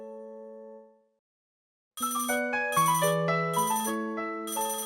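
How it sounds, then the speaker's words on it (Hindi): Mobile phone ringtone for an incoming call, a melodic electronic tune; a soft tone fades, then after a pause a louder repeating chime pattern plays close and clear. "फोन आ रहा है किसी"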